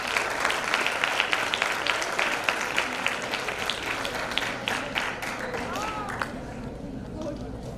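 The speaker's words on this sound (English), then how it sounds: "Huge round of applause for the ladies." Audience applause at a breast cancer awareness stage play as the organizers are called onstage, dense steady clapping throughout with crowd voices and chatter mixed in, thinning slightly toward the end.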